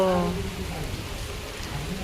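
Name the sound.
heavy rain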